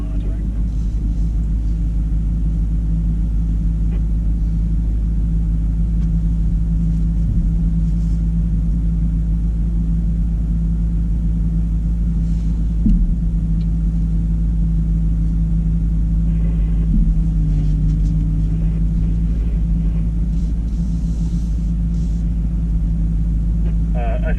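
A Jeep crawling in first gear with descent control engaged during a trail recovery on Storm Mountain, Colorado, gives a steady loud low engine rumble that holds throughout.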